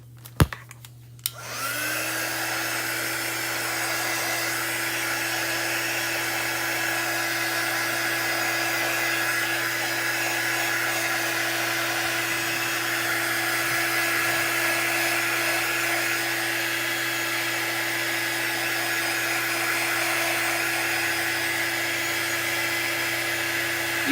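A hair dryer blowing on a poured resin craft piece switches on after a brief clunk and then runs as a steady, loud, continuous whirring hum with a constant motor whine, close and alone for over twenty seconds.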